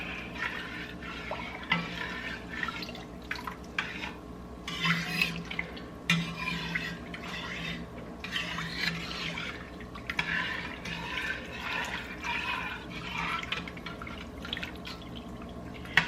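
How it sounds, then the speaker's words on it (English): Gumbo with two whole bay leaves being stirred in a pot gives a steady, quiet wet swishing with scattered soft drips and clicks throughout, with no voices. "2 whole bay leaves, and then we're going to stir."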